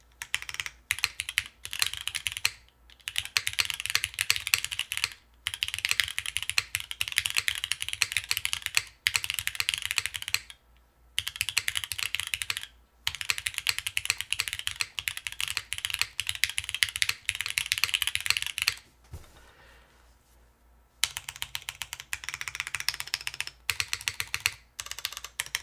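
Steady bursts of typing on a mechanical keyboard with Cherry switches, near and clacky, in long runs broken by short pauses, with no talking.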